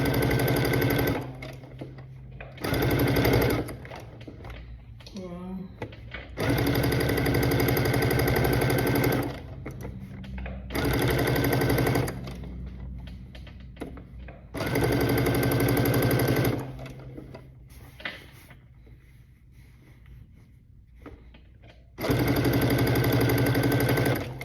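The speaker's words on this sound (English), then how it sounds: "Back stitch, I'm at the bottom, the back stitch." A sewing machine runs a back stitch on a fabric wall storage bag in several loud bursts of rapid needle clatter, each a few seconds long, separated by quiet pauses.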